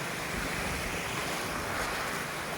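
Sea waves rolling onto Mandvi Beach with steady wind buffeting, a continuous broadband wash of surf and wind noise throughout, close and loud, with no voices.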